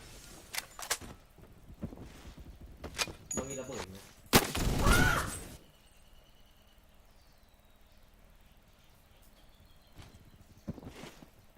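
Several sharp gunshot bursts crack out in quick succession, followed by a longer blast, then quieter game ambience and one more distant shot.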